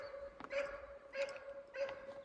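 Dogs bark in short bursts at an outdoor shooting range, three evenly spaced barks at moderate distance over a low hum, with no talking.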